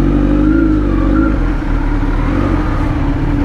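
A motorcycle fitted with an aftermarket exhaust revs hard up close, a loud, steady engine roar whose pitch rises and falls slightly over a few seconds, with no talking.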